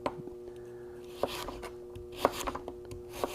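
A knife slicing rutabaga strips on a cutting board, giving soft, irregular taps and crunches at close range over a steady low hum.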